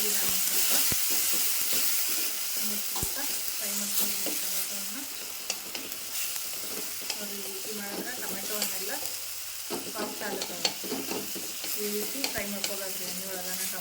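Tomatoes sizzle and fry in a pan during home cooking, with a steady crackling hiss and occasional sharp scrapes of stirring throughout.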